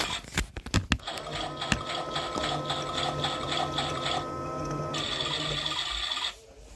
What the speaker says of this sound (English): I'll start a little empty wash cycle.